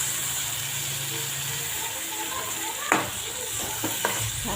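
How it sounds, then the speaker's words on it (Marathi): Moong dal stirred into tomatoes and spices frying in a pan: a steady close sizzle runs throughout, broken by a few sharp spoon scrapes and knocks near the end. "छान हलवायचे आहे।"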